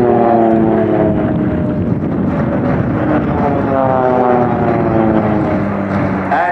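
Swiss Pilatus PC-7 propeller aircraft in an aerobatic team display at an airshow, a loud continuous droning engine and prop roar with slowly shifting harmonic pitch as the planes turn, steady throughout.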